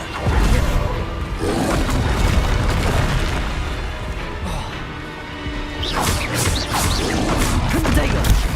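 Bombarda blasting spell from the video game Hogwarts Legacy: dense, loud booming explosions and crashing bursts fill the scene continuously, with whooshing magic and a voice calling out over the chaos.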